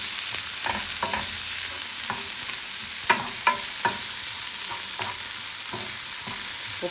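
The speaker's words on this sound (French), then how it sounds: "on va mettre nos champignons dedans. On les fait revenir un petit peu." Mushrooms sauté with garlic and onion in a pan: a loud, constant sizzle with repeated utensil scrapes and taps as they are stirred, close up.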